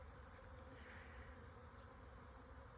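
A swarm of honeybees circles overhead outdoors after rain, a continuous faint buzzing hum from many wings, steady and unbroken with no talking.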